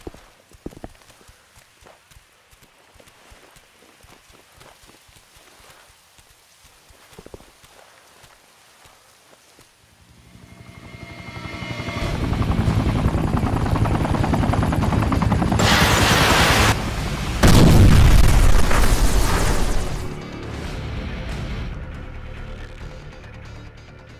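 Helicopter gunship in the video game Sniper: Ghost Warrior 2: quiet at first, then a loud, dense rotor-and-engine roar swells in about halfway through and holds steady to the end, with scattered sharp bursts mixed in.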